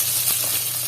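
Red chilli peppers sautéing in sesame oil, a steady, close, hissing sizzle with faint stirring scrapes, no voices.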